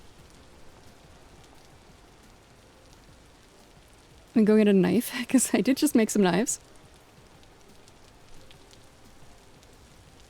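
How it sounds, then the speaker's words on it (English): Steady, soft rain patters throughout in the survival game Vintage Story, and a person talks briefly over it partway through. "I really like the rain in this game."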